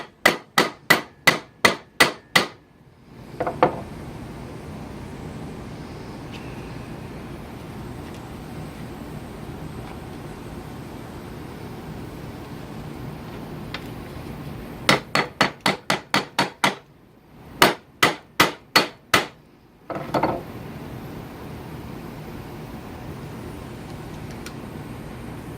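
Sharp, ringing hammer blows strike the metal bolster of a handmade chef knife to close a hairline gap, coming in quick bursts of six to eight strikes separated by pauses, close and loud.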